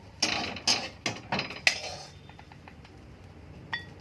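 Fried dried fish (shutki) is lifted out of a pan, a run of sharp metallic clinks and scrapes from a utensil against the pan, close and irregular, thinning to a few faint taps.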